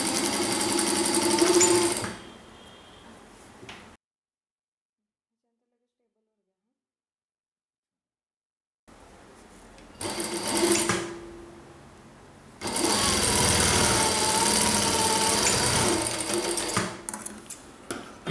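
Sewing machine stitching the shoulder seam of a kurti, heard in close bursts of steady rapid whirring separated by a long silent gap, with the longest run at the end.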